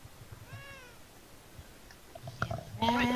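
A cat meows in the video game Beyond Eyes, one short clear mew early on, followed by scuffling and louder game sounds near the end.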